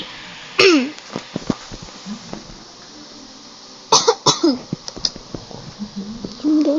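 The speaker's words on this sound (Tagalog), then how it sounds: "sorry dahil may ubo ako" Several sharp coughs come in two clusters, close and loud, with quieter breathy sounds and faint background noise between them.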